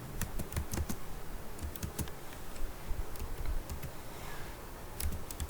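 Java code being typed on a computer keyboard, a steady patter of quick, close key clicks with short pauses and bursts throughout, no voice over it.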